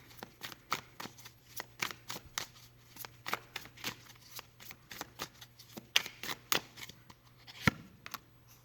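Tarot cards being shuffled by hand, a steady run of crisp riffling flutters and soft slaps that repeat close up and alone, with no talking.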